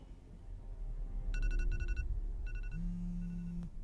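An alarm sounds in short repeated electronic beeping bursts, then a steadier tone, fairly quiet, with no voices.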